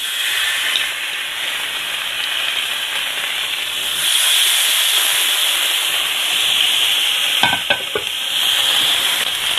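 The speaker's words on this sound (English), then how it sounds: "So I'm going to now place my steaks in the pan, and I'm going to sear it for 30 seconds per side." NY strip steaks searing in a pan over a burner on high heat, producing a loud, steady hiss and sizzle throughout that swells after a few seconds, with a few brief knocks from the pan near the end.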